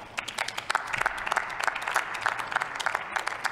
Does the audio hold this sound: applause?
yes